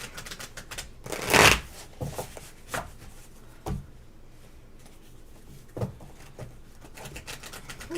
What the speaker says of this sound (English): This deck shuffles really nice.